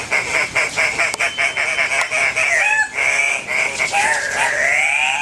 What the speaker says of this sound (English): I will play their bird call